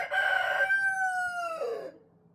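A rooster crows once, loud and close, a long drawn-out call that falls away at the end, followed by quiet.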